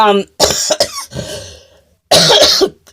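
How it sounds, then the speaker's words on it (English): A person coughs several times, harsh bursts close to the mic with short pauses between, ending in a final strong cough. "my cough came back"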